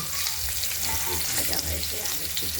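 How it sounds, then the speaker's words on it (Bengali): Steady oil sizzling and crackling of pointed gourd frying with turmeric in a pan, continuous and close, with faint stirring scrapes. "হলুদ করে ভেজে নিচ্ছি এক ভাজা হয়ে গেছে আর একটু ভাজবো"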